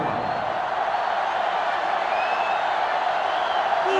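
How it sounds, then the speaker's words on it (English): A stadium crowd in the NCAA Football 2005 video game roars steadily and loudly, a dense, sustained wash of cheering with whistles and shouts cutting through, with no clear talk above it. "this crowd is going absolutely insane"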